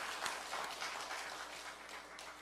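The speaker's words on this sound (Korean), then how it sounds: "우리 은혜로운 찬양을 해주신 우리 갈릴리 성가대에 감사의 박수로 하겠습니다." A church congregation applauds to thank the choir at a Sunday worship service, a soft, steady patter of many hands clapping, faint and diffuse throughout with no voices.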